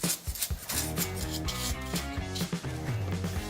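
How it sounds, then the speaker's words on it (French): A brush scrubbing dirt off an SW Motech adjustable motorcycle footpeg on a trail bike, quick close rhythmic rubbing strokes repeating steadily and fairly loud. "Donc tu vas pouvoir mettre un petit coup de brosse parce qu'on voit que c'est quand même un petit peu sale."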